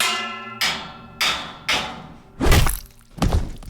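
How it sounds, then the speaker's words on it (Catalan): Metal pipe repeatedly striking a head as a sound effect in a show: five heavy blunt thuds at roughly even intervals, the later blows deeper and louder, heard alone. "el pobre Clyde agafa una canonada i pica el cap del seu agressor fins a matar-lo."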